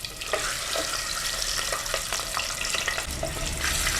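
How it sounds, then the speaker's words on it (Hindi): Eggs fry in oil in a pan over a medium flame, making a dense, steady hiss with scattered crackles and occasional spatula movement, close and fairly loud. "एक साइड से फ्राई हो जाए तो साइड चेंज करते रहें, और मीडियम फ्लेम पे इन्हें फ्राई करें"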